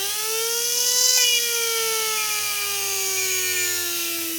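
A Fantom 13.5T brushless RC motor with 45 degrees of timing advance whines up to full speed on a dyno, a loud, clean rising tone that holds high and steady, close up, with no talk.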